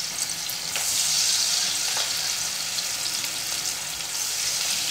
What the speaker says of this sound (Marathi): आपण काही इडलीचे पीसेस टाकून घेऊया आणि डीप फ्राय करून घेऊया